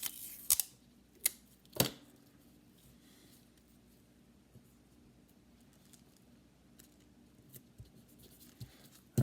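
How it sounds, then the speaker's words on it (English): Tape being torn from a roll and pressed onto a paper craft octopus, with a few sharp ripping snaps near the start, then faint quiet handling and a final tap. "I'm going to put a piece of tape over each one of those"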